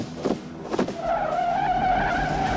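A car in the film Child's Play brakes hard after two short thumps, and a loud, sustained tire squeal follows and holds for well over a second, close and prominent without speech.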